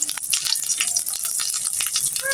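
Pangas fish sizzling in hot oil with ginger-garlic paste, turmeric and chili powder, a bright continuous crackle with faint rattles of stirring, close and steady.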